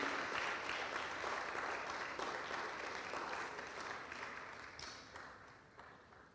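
Sustained applause from a church congregation, steady and fairly loud throughout, gradually tapering off toward the end with no talking over it.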